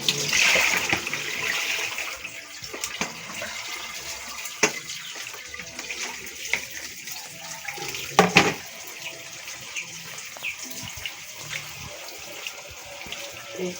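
Tap water running into a kitchen sink, a steady hiss of flowing water with scattered clinks and splashes, one louder splashy burst near the end, close and fairly loud.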